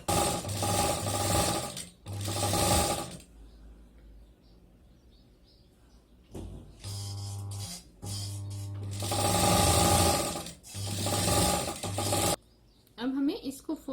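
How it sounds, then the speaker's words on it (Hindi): A sewing machine stitches a fabric strip onto a zip in several loud, rapid bursts, each a few seconds long, with short quiet pauses between runs. "यहाँ पे हमें स्टिच करनी है। इसको ऐसे रख के"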